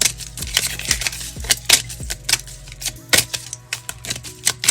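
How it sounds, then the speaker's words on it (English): A deck of playing cards being reshuffled by hand for a deuces-wild game, heard as a run of sharp, irregular snapping clicks and flutters, close and fairly loud. "So let's go ahead and shuffle these again."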